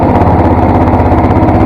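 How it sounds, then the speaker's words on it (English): Long tail mud motor on a jon boat out on the Colorado River, running close and loud with a steady throbbing putter and even rhythm, no voices over it. "The engine didn't sound bad."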